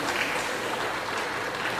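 Crowd applause for the governor at a Heritage for Life Foundation event, a steady dense clapping that fills the short stretch without a break.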